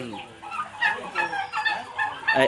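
Farm turkeys kept in an intensive rearing house, a flock of about forty birds giving scattered clucks and gobbling calls at close range, mixed with faint human talk.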